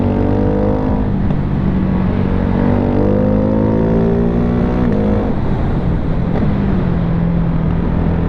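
A Ducati Hypermotard 698 Mono RVE single-cylinder motorcycle with a quick shifter, ridden in the Arizona desert, its loud, close engine climbing through gears in repeated rising pulls with brief shift breaks, heavy wind rush underneath.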